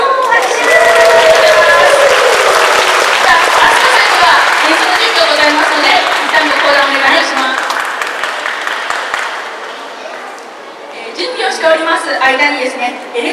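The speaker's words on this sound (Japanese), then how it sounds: "拍手！ 拍手！" Audience applause at a talk show during a Sugamo police crime-prevention festival, loud and dense at first, then thinning and fading before a fresh burst of clapping near the end, with a voice heard over the crowd.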